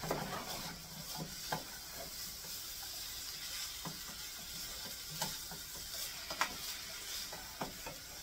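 Ingredients for homemade beefaroni cook quietly in a pan, with a faint steady sizzle and occasional soft scrapes and clicks of stirring, no talking.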